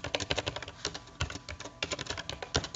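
Rapid, irregular clatter of keys on a computer keyboard as code is typed, close and fairly quiet, with bursts and short pauses and no talking.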